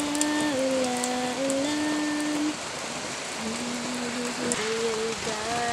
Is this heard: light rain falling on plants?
yes